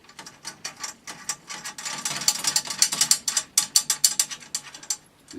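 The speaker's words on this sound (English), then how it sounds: "You get all these lugs down, tighten by hand." Drum lugs tightened by hand in a drum shop, giving quick runs of close, crisp ratcheting clicks in bursts, loud and without talk.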